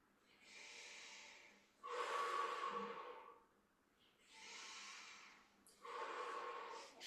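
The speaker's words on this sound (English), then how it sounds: "Breathing in, breathing out." Slow, deep breaths during a calm qigong exercise: two long inhale-exhale cycles, each a soft airy rush lasting a couple of seconds, close and steady with quiet pauses between.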